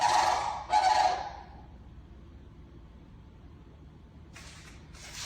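Two loud goose-like honks sound in quick succession at the start, followed by quiet background noise and a fainter pair of calls near the end.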